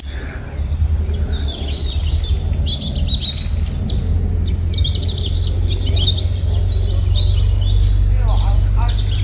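Many birds sing and chirp continuously in a Scottish castle garden, bright overlapping calls close by, over a steady low rumble of background noise.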